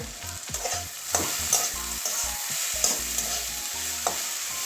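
Cabbage leaves fry in a pan with a soft continuous sizzle while a spatula stirs them, scraping and knocking against the pan in irregular strokes.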